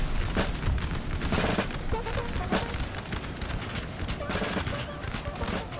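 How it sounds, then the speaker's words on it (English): Cannon fire in a Napoleon Total War battle, heard as a dense, continuous roar of volleys and booms with sharp bursts scattered throughout. "There's cannon fire on the hill"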